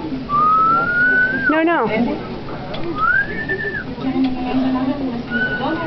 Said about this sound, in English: Go show Daddy how to whistle.